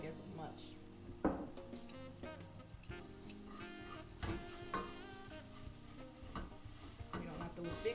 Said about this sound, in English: I'm just gonna continue breaking it down a little bit more